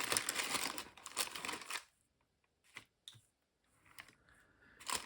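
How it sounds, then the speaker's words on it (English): A sheet of parchment paper is handled and laid down, giving a burst of close crinkling and rustling, then a pause and scattered soft crackles and taps, quiet overall. "the first thing I want to do is put something under here. It is just parchment paper."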